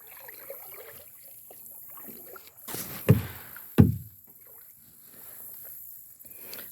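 Quiet outdoor water ambience with two heavy thumps of a kayak knocking on the water, faint splashes and trickles around them.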